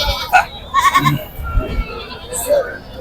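Goats bleat several times amid a busy goat market crowd at Pebbair, with people talking close by over the animal calls.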